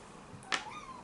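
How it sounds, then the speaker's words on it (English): A pet cat lets out a single brief, high squeak close by, over quiet room tone. "If you heard a little squeak there, that's my cat."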